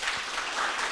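Applause from a youth audience at a political discussion event at Koumassi town hall, a short steady burst of dense clapping filling the room at moderate level.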